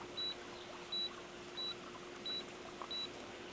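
Five short, evenly spaced electronic beeps from the timer button of a Nuti coffee scale, pressed with the tray cover fitted. The beeps are clear but fairly quiet over faint room hum at a trade show.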